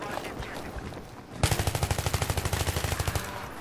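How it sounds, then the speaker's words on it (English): A Jeep-mounted machine gun in Battlefield 3 on the Kharg conquest map opens up after a quiet moment, a rapid, evenly spaced burst of loud shots rattling steadily for over two seconds. "You did not use that Jeep gun to kill me"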